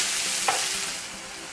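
Onion and tomato frying in hot oil in a skillet, a steady broad sizzle with a brief stirring scrape partway through, close and fairly quiet, no voices.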